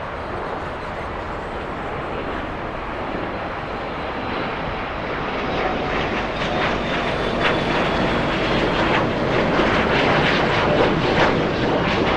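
A Boeing 747-8 at Los Angeles International Airport gives off a steady, broad jet roar that slowly swells and grows louder over about twelve seconds, with no voices.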